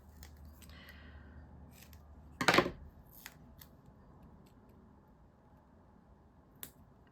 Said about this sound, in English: my scissors, which are right here in front of me.